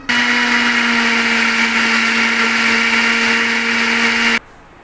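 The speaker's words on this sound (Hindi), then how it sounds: "अब इन चीज़ों को मैं ग्राइंडर में इनको अच्छी तरह से मिक्स करूँगी" Mixer grinder running steadily, blending cake ingredients such as baking powder in its jar, a loud constant motor whine and buzz for about four seconds before abruptly switching off.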